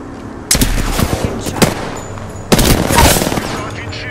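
Gunfire in the battle royale game Apex Legends, two loud bursts of rapid shots separated by a short gap, close and sharp, with game voice lines in between.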